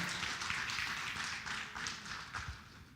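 A church congregation applauds, a steady, dense wash of many hands clapping at once, somewhat distant and soft, sustained for about three seconds without speech.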